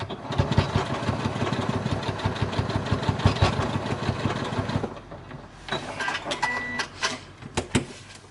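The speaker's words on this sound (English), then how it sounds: "I folded it in half, and I'm just going to sew that quickly into position." A sewing machine runs steadily, stitching fabric for a small make-up bag in a rapid, even mechanical rhythm before stopping partway through; a few lighter handling clicks and rustles follow.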